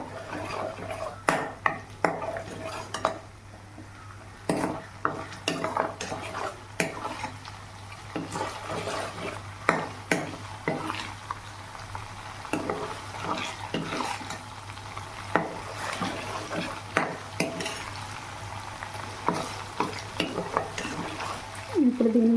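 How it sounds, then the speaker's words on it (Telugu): Ginger garlic paste frying in a pan for spicy chicken pickle, a steady soft sizzle with repeated scraping and clinking of a spoon stirring against the pan, close and continuous with no talk. "అల్లం వెల్లుల్లి పేస్ట్ పచ్చివాసన పోయేంత వరకు ఫ్రై చేసుకోవాలి."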